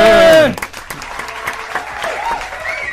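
A television studio audience claps for a guest on a 90s-themed show. The applause starts after a brief burst of voice and stays moderate and fairly thin, with individual claps audible.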